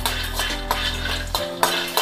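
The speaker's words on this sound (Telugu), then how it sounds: "పిండి బాగా వేయించుకోవాలి" Flour roasts over a low flame in a pan while a spoon stirs and scrapes it, making rhythmic metallic strokes over a steady low hum from the stove.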